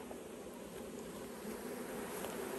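Honey bees at the hive make a steady, faint, dense buzzing hum throughout, with no speech.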